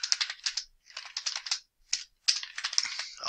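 Rapid clicking on a computer keyboard while clerking an auction in auction software, close and crisp, coming in quick bursts with short pauses between them.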